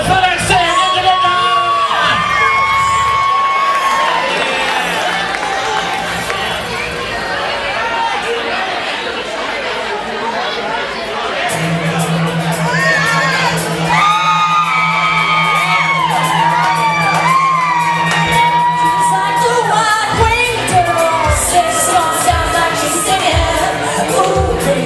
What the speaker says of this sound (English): Big round of applause for that Sam Ninja Ninja!